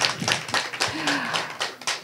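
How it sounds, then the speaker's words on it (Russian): A small audience at a "Stories of the Big City" event in Twiggy claps in a brief, uneven round, individual hand claps distinct and close, with a faint voice underneath. "Аплодисменты."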